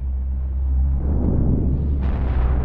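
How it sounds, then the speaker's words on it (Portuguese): A loud, deep explosion rumble in the planet-destruction game Solar Smash, rolling on continuously with a brighter burst near the end, heard alone without speech. "Mas por que fez essa explosão, essa explosão toda e só arrancou isso?"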